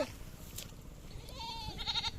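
Goats bleat a few times over a steady outdoor background, fairly distant and moderately loud.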